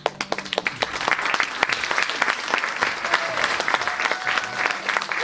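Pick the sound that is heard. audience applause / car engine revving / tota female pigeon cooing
audience applause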